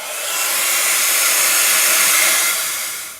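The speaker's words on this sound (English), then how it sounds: "I'm just going to blast that with a heat gun just to make sure it's all dry before we go on to the next colour" A heat gun blows steadily over wet paint on a mixed media canvas, a loud, close, continuous hiss that swells in and tapers off without any talking.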